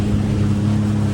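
A jet ski engine roars in a loud, steady low drone with a constant rumble.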